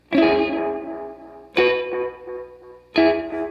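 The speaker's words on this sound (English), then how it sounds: "I have my Maleco Echo 616 analog delay going. Yeah, you can hear it kind of giving me some trails there" Three slow electric guitar chords each ring out through a Maleco Echo 616 analog delay, with soft repeating trails decaying after every strum and no talking.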